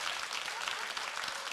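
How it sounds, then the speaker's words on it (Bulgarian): Students in a classroom clap together, a brief burst of dense, even applause at moderate distance with faint voices underneath. "Не съм казал да пляскате? Кой пляска там"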